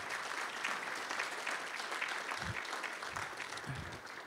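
Steady applause at a university academic affairs fall meeting, faint and distant, continuing evenly throughout.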